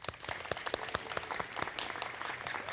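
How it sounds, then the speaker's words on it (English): An audience at a summer nursing pinning ceremony applauds an instructor, dense steady clapping from many hands filling the room, fairly loud and continuous throughout with no talk over it. "Please help me applaud this amazing instructor."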